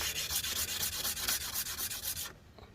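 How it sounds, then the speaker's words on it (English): Organ valve seats from an Aeolian stack being sanded flat, a steady rhythmic rubbing scrape of strokes repeating about twice a second, close and fairly loud, stopping abruptly near the end. "We're going to sand them flat."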